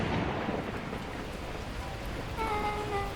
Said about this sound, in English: unleashing torrential rain.